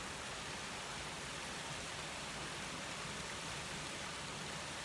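A small outdoor waterfall fills the scene with a steady, even broadband rush, constant and unbroken throughout, fairly quiet yet enveloping, with no voices over it.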